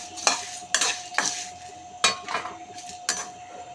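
Whole spices for garam masala are dry-frying in a pan while a spatula stirs them: about six rhythmic metallic scrapes with a soft rustle between strokes, close and without talk.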